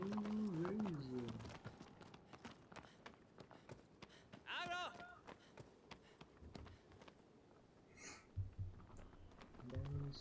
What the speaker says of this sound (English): Down the stairs, horsey.